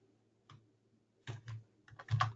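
Keyboard shortcuts are tapped to place trading orders, with a few sparse clicks followed by a quick burst of close keystrokes over a faint background hum.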